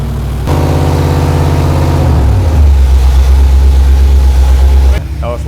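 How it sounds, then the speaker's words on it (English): An LS1 V8 in a C5 Corvette idles close and loud with a deep, steady rumble, briefly blips and settles into a lower, heavier idle before cutting off near the end. "LS1 sounds killer. It's the motor that came with the car."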